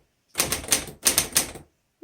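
Bursts of keystrokes on a 1936 Corona Standard typewriter, two quick runs of about four sharp clacks each separated by a short pause, close and crisp with no talking.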